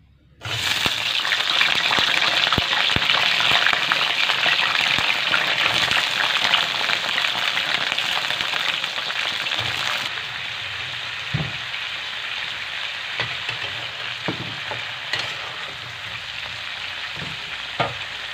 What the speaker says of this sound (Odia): ଏଥର ତାକୁ ଭାଜିବା ଆରମ୍ଭ କରିବା ତେଲରେ।